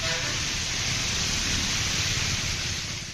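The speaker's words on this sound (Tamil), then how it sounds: "சென்னை பெருநகர் மற்றும் புறநகர் பகுதிகளில் லேசாக பெய்யத் தொடங்கிய மழை பின்னர் கனமழையாக 2 மணி நேரத்திற்கும் மேலாக பெய்தது" Heavy monsoon rain pours down in Chennai, a dense, loud and unbroken hiss of water striking surfaces, steady from start to finish with no voices.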